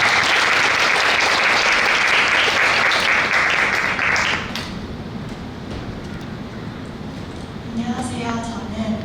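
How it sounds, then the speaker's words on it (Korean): An audience at a school parents' gathering breaks into loud, dense applause for about four seconds, then it drops to a quieter room where a voice begins speaking. "박수 한번 다시 한번 주시죠."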